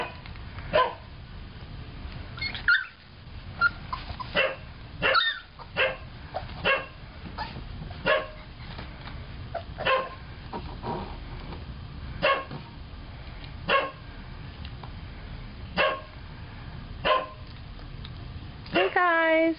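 Repeated high-pitched barks and yips from three-week-old puppies, scattered irregularly across the clip, close by, with occasional soft whimpers in between.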